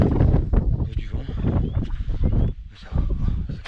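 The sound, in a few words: wind blowing on a mountain trail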